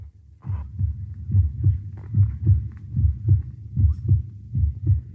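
A pounding heartbeat sound effect, loud and close, with steady paired thumps repeating about twice a second throughout, heard alone with no other sounds.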